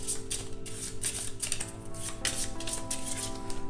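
Too Many Bones encounter cards being shuffled on a tabletop, a steady run of crisp riffling bursts and slaps close up, with a faint background hum and no talking.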